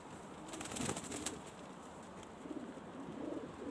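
Racing pigeons in a loft give quiet, low coos, with a brief flutter of rustling near the start and soft calls again toward the end.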